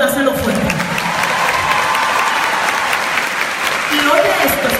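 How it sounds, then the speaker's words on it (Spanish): A church congregation claps and cheers loudly and continuously during a sermon, a dense wash of applause with voices mixed in. "Si le vas a dar un aplauso a Dios, dáselo fuerte."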